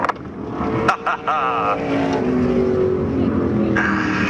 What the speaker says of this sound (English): Rick Fuller does the donuts in the backstretch.